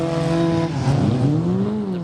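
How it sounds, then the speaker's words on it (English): Historic Formula Ford race cars at Croft circuit heading to the grid, a loud close engine drone with rising and falling pitch as the cars move off. "As the cars head to the grid then, anticipation builds at this point of the race."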